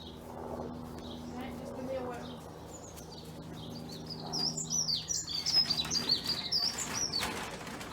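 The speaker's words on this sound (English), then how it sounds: "Really noisy starlings that come every morning." Several starlings chirp and squabble at a garden bird feeder on a morning, the calls growing busier and louder in the second half, with a faint murmur of voice underneath early on.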